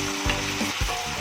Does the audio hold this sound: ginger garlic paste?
yes